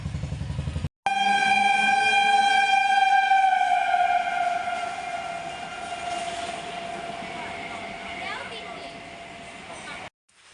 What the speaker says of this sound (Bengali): চলে এসছি আমি এখন স্টেশনে এখান থেকে ট্রেন ধরবো